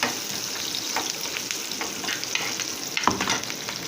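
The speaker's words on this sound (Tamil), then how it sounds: "இப்போ நம்ம அரைச்சி வச்ச தக்காளியும் வெங்காயத்தையும் இஞ்சி பூண்டு எல்லாம் இதில் போட்டு" A ground paste of tomato, onion, ginger and garlic sizzles steadily in a hot pan, with scattered stirring clicks and a louder scrape near the end, and no voices.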